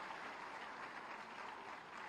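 Even, sustained applause from a large audience at a ceremony honouring women, a soft, distant-sounding wash of many hands clapping with no breaks.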